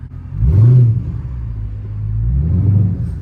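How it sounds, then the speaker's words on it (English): A Chrysler 300 SRT 392 revs up with a deep, rumbling exhaust while driving downtown, settles into a low drone, then swells again toward the end. "Y'all can hear the exhaust and all that."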